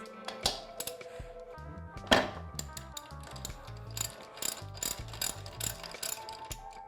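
Ratchet loosening a bolt with a 14mm Allen socket on the PDS rear shock of a KTM 790/890 or Husqvarna Norden 901 motorcycle, a close run of rapid pawl clicks in short bursts with a few sharper metallic knocks.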